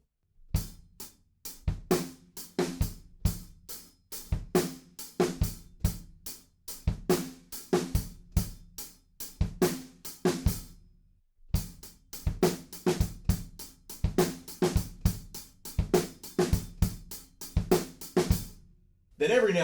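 A drum kit plays the first groove from a song, a steady loud pattern of kick, snare and cymbal hits, with a short break near the middle before the beat resumes.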